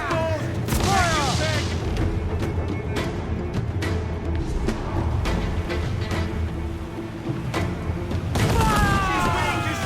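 Ship cannons boom in repeated volleys during an Assassin's Creed IV Black Flag naval battle, heavy close blasts over continuous din with shouted commands between shots.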